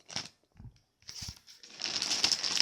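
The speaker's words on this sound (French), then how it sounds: "Je suis en train de déballer." Plastic packaging rustles and crinkles as an Okaïdi clothing parcel is unwrapped, starting as a few soft, sparse handlings and building into a steady, close crinkling toward the end.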